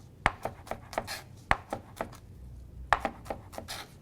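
A knife cross-cuts onion on a cutting board in quick bursts of crisp taps, several strokes in a row, a short pause, then another run of cuts, close and clear.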